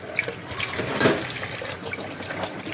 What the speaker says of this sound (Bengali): তার আগে ঢাকনাটা একটু ধুয়ে নিলাম।